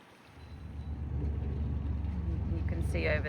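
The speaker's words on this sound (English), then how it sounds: "It's our little waterfall. Keeps the water moving through the pond." Small garden pond waterfall keeping the pond water moving, a steady broadband rush of running water that swells slightly after the start and stays continuous and fairly close.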